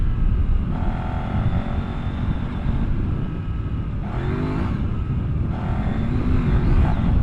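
A Kove 800X Pro adventure motorcycle rides fast over a sandy, washed-out trail, its engine droning loudly and steadily up close with rising revs and gear changes, overlaid by wind rush.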